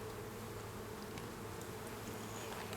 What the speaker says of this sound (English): Oh, a lot of buzzing on this one.